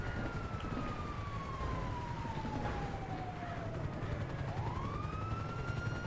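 A police car siren wails continuously in the GTA 5 video game, its tone sliding slowly downward and then rising again over steady background noise.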